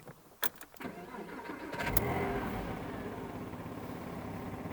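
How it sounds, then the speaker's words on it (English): A car engine cranks and catches after a few sharp clicks, then settles into a loud, rough idle with a raspy, blowing exhaust from a worn system needing a new catalytic converter. "Yeah, the exhaust is blowing. Needs a new catalytic converter."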